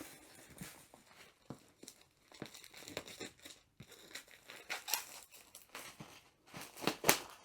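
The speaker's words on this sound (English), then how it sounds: "So I'll just peel this off." Protective plastic film is peeled off a diamond art kit box, giving soft, intermittent crinkling and tearing crackles up close, with small louder snaps as the film pulls away.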